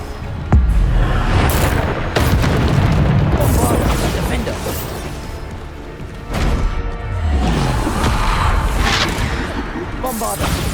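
Bombarda spell explosions in Hogwarts Legacy, a series of heavy booming bursts and crackling impacts spaced through the passage, mixed with other game effects and loud throughout.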